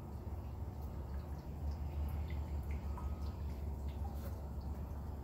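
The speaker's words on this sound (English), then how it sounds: "Yeah, it's pouring out there still pretty good. I mean, you got a pretty good drip." Apple cider dripping steadily from a homemade apple press into a bucket, a continuous wet trickle with faint scattered drips, close and fairly quiet throughout.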